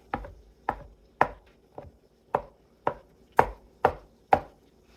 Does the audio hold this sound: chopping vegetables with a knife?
yes